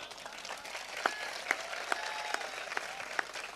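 An audience at a Hindi comedy and poetry show gives scattered, sparse claps over a low crowd hiss, with a few sharper individual claps standing out at intervals.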